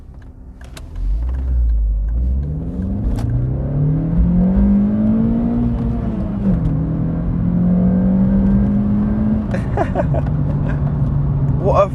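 A Volkswagen Lupo GTI hatchback drives along a bumpy road and accelerates, its engine note climbing steadily through the gears with a brief dip between, close and loud inside the cabin, with a few faint knocks from the bumps.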